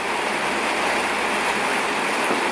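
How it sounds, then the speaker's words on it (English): Dense, steady hiss of heavy rain drumming on a roof, loud and unbroken throughout. "the sound of the rain on the roof"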